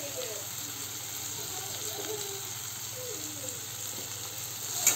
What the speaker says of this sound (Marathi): आपण जरा शेंगदाणे तेलात परतूया, म्हणजे जरा खरपूस होतील